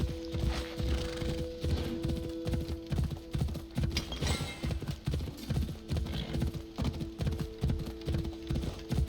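Horse hooves clip-clop in a steady, brisk rhythm throughout in the video game Assassin's Creed Odyssey, close and clear over a constant hum with faint mechanical rattles, no talking.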